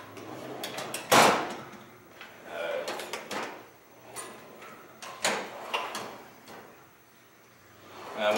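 Drawers of a 13-drawer Craftsman Edge tool box loaded with heavy tools roll open and shut, giving a series of close, smooth sliding runs ending in soft knocks, with quiet gaps between strokes.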